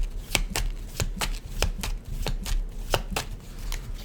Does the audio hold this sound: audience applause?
no